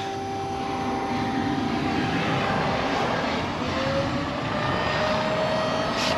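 An 800-volt fast charger for a Porsche Taycan RWD starts up with a steady, loud electrical hum and fan-like whoosh, a faint rising whine running underneath throughout.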